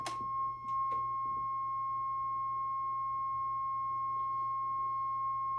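A steady sine-wave test tone runs through a Cobra 29 CB radio fitted with a V6 EQ. It holds a constant pitch throughout, with a few brief clicks near the start and a low hum underneath.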